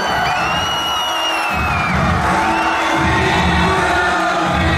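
Crowd at an amateur boxing gala in Besançon cheers and whoops for the declared winner, a loud continuous roar with shouts and whistles over the hall.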